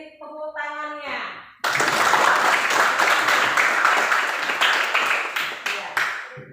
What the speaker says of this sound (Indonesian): Temannya yang ngasih nilai 90 beri tepuk tangannya